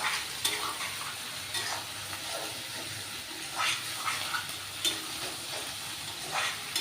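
Spice paste fries in a pan for chicken kosha with a soft continuous sizzle, broken by periodic stirring scrapes and clinks, heard close and fairly quiet with no talking.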